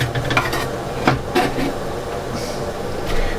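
Onions frying in butter in a pan for a cheesy pasta bake, a continuous low sizzle with a few clattering stirs and knocks, fairly close and with no one talking.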